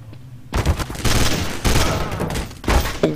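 Burst-fire gunshots in Counter-Strike: Source, loud close rapid clusters of shots in several quick bursts over a few seconds.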